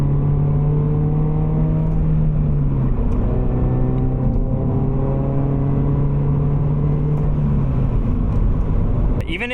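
Engine of a Subaru BRZ sports car revving after a downshift, a steady droning note that rises and falls across the whole stretch, with road rumble underneath.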